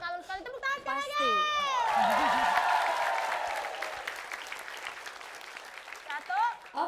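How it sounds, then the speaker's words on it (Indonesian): Studio audience applause and cheering at an Indonesian TV comedy show, swelling loud after a host's lines, with children's voices mixed in, fading and trailing off under renewed talk. "Tepuk tangan sekali lagi."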